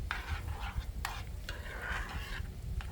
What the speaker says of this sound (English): So these strawberries are just kind of cooking down.